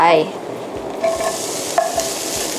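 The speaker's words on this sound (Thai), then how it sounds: "เราก็เริ่มด้วยการนำกระทะมาใส่น้ำมันแล้วก็ตั้งไฟนะคะ ทีนี้เราก็ใส่กระเทียมลงไป" Garlic sizzles steadily in oil in a pan while a utensil scrapes and stirs in a few soft, irregular strokes.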